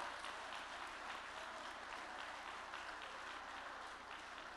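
A steady round of applause fills the room at a county coaches' first team awards ceremony. It is faint and distant, with a low constant hum beneath.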